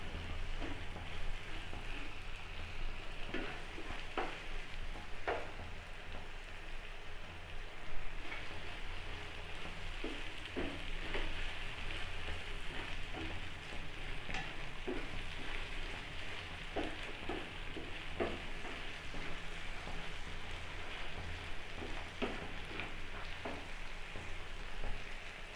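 An egg and tomato mixture cooks in a pan, giving a soft, continuous sizzle and light crackle with faint pops, steady and quiet without talk.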